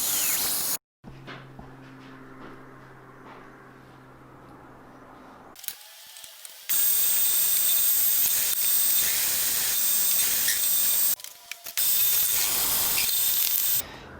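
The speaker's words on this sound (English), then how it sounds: "I'm going to be using my new saw for that. Looking forward to using that. It's one of them tooth cold saws." A toothed cold saw cuts threaded rod in a workshop: a low motor hum gives way to loud, sustained bright grinding of the blade biting metal, pausing briefly before the cut resumes, close and with no talk.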